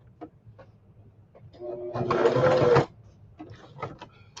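A sewing machine stitches fabric in one loud whirring run of about a second, framed by quieter handling clicks and taps before and after.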